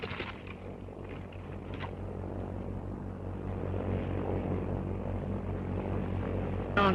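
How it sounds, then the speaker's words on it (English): A propeller airplane drones overhead in a 1935 sci-fi serial, a steady low engine hum that swells gradually louder over several seconds. "Airplane!"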